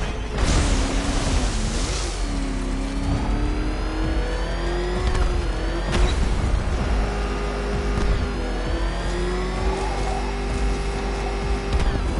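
A ramshackle car engine revving hard in a video game, its pitch rising and falling through repeated surges over a steady loud drone, with rattling mechanical noise throughout.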